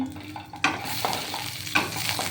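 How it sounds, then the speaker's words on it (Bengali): Cashews, raisins and cardamom pods frying in a spoonful of ghee, a soft sizzle with a few sharp stirring scrapes and clinks, close and fairly quiet with no talk. "এক চামচ গা ঘে দিয়েছি হ্যাঁ গা ঘের মধ্যে আমি একটু কাজু কিশমিশ আর দুটো এলাচ"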